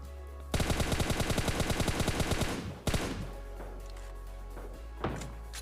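M4 rifle fire in a shooting video game, a long rapid automatic burst lasting over two seconds, followed by a few single shots and clanks, close and loud.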